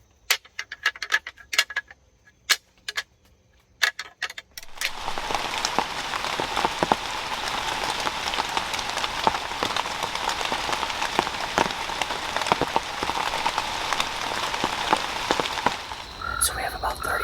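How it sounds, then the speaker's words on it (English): Steady rain patters on surfaces outdoors during an evening urban bowhunt, starting abruptly as a dense, even hiss and holding constant, with a few taps and knocks at the start and no talk. "it's actually raining pretty good right now"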